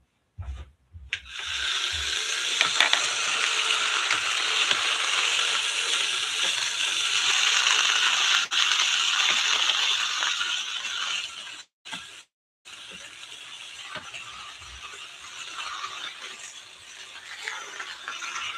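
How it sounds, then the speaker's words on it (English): A small handheld vacuum cleaner runs with a steady, close whirring hiss for most of the time, briefly cutting out twice near the end before starting up again. "So I have my vacuum cleaner here."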